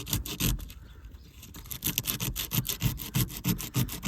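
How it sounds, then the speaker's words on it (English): Coarse 80-grit sandpaper scrubs black paint off a metal spot on a Chevy 1500 to make a good ground, a steady run of rapid, close rubbing strokes with a brief pause near the start. "Now let's just sand this down so we can get a good ground."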